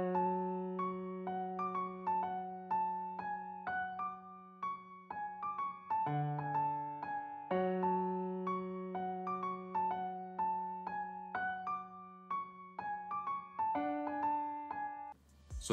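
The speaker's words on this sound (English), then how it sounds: "This is how that sounds with no effects on." A dark piano preset melody programmed in FL Studio and played dry with no effects, sustained low notes under a bouncing triplet line of higher notes, clear and alone for about fifteen seconds.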